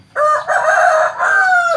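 A Thai fighting cock, a Burmese-type gamecock, gives one loud, close crow lasting nearly two seconds, with a brief dip in the middle. No other sounds accompany it.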